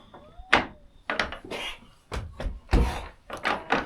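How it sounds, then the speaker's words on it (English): Goats bang repeatedly against a wooden door, a series of irregular loud thumps and rattles, some doubled, spaced through the stretch with quieter gaps between. "Girls, don't break that door."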